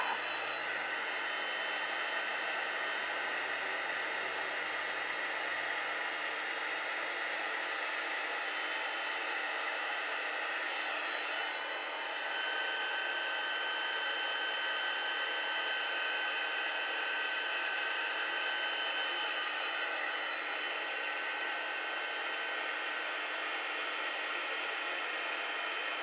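Heat tool blowing hot air over stamped flower images on a greeting card, a steady loud whooshing hiss that holds unbroken for the whole stretch, close by and with no talk.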